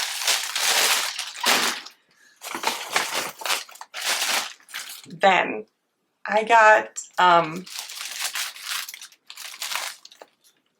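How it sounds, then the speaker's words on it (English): A reflective plastic bag holding balls of yarn crinkles and rustles in noisy bursts, loud and close, with a short stretch of a woman's speech in the middle. "it's in a plastic bag and it's all reflective and noisy."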